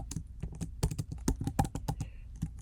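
Rapid, close typing on a computer keyboard, with irregular bursts of crisp key clicks and taps and no talking.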